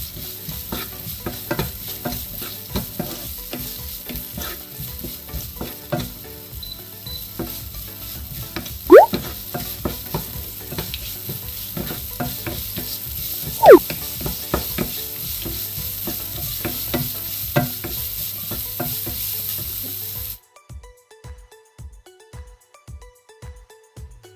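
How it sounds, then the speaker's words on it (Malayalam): Onions sautéing in a pan with a pinch of salt, a constant sizzle broken by clattering stirs and occasional sharp scrapes, then the sizzle cuts out, leaving only a few spoon taps. "നമുക്കൊരു നുള്ളി ഉപ്പിട്ട് കൊടുക്കാം നന്നായിട്ടൊന്ന് വഴറ്റിയെടുക്കാം"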